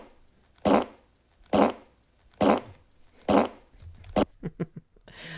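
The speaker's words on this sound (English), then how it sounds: "That sounds sad, but your fart, on the other hand, is absolutely amazing." A recorded fart repeated in four evenly spaced, loud blasts, then a quicker run of shorter sputtering puffs toward the end.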